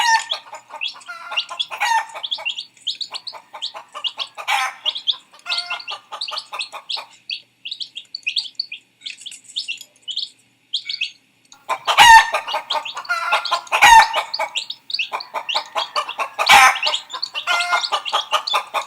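A mother hen clucks and tidbits to her chicks in a yard, giving rapid repeated clucks in bursts, with occasional louder calls mixed in and no talking.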